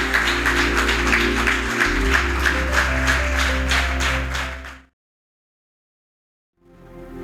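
A church congregation claps loudly in rhythm over sustained musical tones, then the sound cuts off abruptly into silence before faintly returning.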